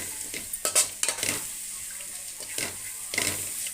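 Sambar spice powder frying in a pan for mango and lemon rice, a steady sizzle with a few stirring scrapes, a brief clink and faint background noise.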